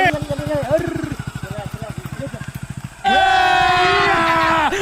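A motorcycle engine putters in quick, steady pulses as it is started and eased along slowly, then a loud sustained horn-like tone cuts in, with voices talking over it.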